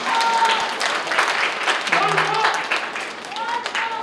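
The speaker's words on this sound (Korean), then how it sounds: "다시 한번 강신업 변호사님께 다시 한번 큰 박수 부탁드립니다" An audience at a book launch and campaign rally claps for a lawyer, the scattered applause running for a few seconds beneath voices and some tonal background sound.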